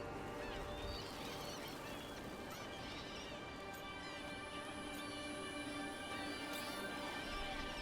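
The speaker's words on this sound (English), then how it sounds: "Look at you, feeding the birds." Birds honking and quacking like geese and ducks in Dragon Age: The Veilguard, a dense overlapping flock chorus that carries on steadily throughout, close and loud, with faint background game ambience.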